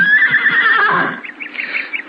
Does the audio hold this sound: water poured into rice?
no